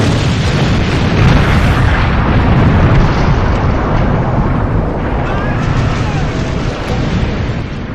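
A torpedo-struck ship explodes, a loud sustained roaring blast with dense rumbling and crackling that holds steady for several seconds before easing slightly.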